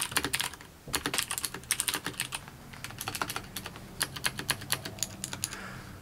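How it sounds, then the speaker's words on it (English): Clicky mechanical keyboard with Cherry MX Blue switches on a modular board, typed in quick bursts of sharp close clicks with short pauses between runs. "we have the Cherry MX Blue. Quite clicky if I do say so myself."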